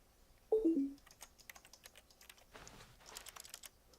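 Typing on a computer keyboard during a video game, a rapid run of soft key clicks after a short electronic chime, fairly quiet and close.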